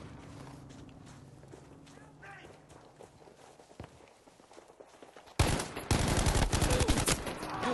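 Gunfire in Battlefield 5 on a Pacific map: after quiet footsteps and ambient movement, a sudden loud burst of rapid automatic fire kicks in and keeps going, dominating the rest of the moment.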